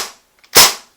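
A Maruzen MP5K gas blowback airsoft gun fires a single semi-automatic shot, a loud, sharp crack with a quick bolt-cycling snap. A faint mechanical click comes just before it.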